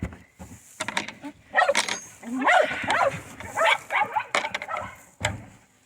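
Several dogs bark in sharp, scattered bursts at a farm on a cold morning, mixed with rustling and handling noises nearby.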